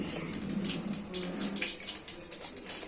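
Fenugreek leaves, roots still attached, are rinsed under running tap water, a steady close rush and splash with rhythmic sloshing as the greens are swished about.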